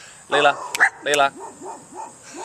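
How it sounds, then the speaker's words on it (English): Dogs barking excitedly close by, several sharp barks and yelping bursts in quick succession, with a person calling out over them. "obviously you can hear my dogs are going crazy"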